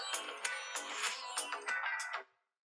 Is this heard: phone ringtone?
yes